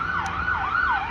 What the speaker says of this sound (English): And there's an ambulance just racing by,